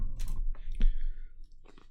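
Custom mechanical T9-build keyboard giving a few separate, sharp keystroke clicks close up, with short quiet gaps between them and no speech.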